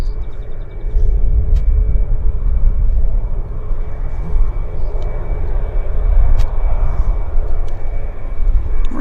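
A Boeing 737 Max airliner taxiing at Vancouver airport gives a steady, loud low rumble of jet engines that holds throughout, with no talk over it.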